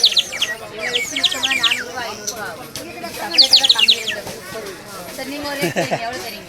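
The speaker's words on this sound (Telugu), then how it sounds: "అందులో వాటర్ పోసి ఊదితే అవి చిలుకలు అలిసినట్టు సౌండ్ వస్తూ ఉంటుంది." A water-filled clay sparrow whistle is blown in quick warbling bursts of bird-like chirps, repeating several times while people talk nearby.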